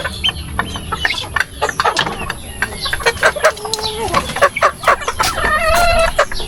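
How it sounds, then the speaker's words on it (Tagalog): Morning feeding of backyard chickens in Infanta, Quezon brings busy overlapping clucks and short squawks from several birds close by, with pecking noises between calls. "Tuwing umaga po ay talagang dapat pakainin mga manok."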